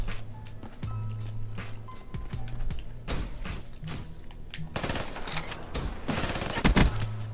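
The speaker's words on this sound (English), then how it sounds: "I shot his head multiple times" Gunfire in a video game shooter, with rapid bursts of shots and single cracks mixed with footsteps and clattering, growing louder and denser toward the end.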